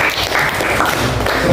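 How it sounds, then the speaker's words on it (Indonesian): Brief burst of applause from students in a classroom for a classmate, dense clapping close by throughout. "Oke, beri aplaus buat temannya."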